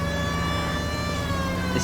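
A police car siren in the video game LA Noire sounds steadily and loudly up close, a continuous wailing tone over engine noise.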